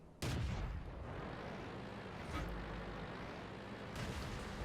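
Tank cannon fire in the World of Tanks video game: three heavy booming shots, each a sharp blast trailing into a dense, sustained rumble that fills the whole clip.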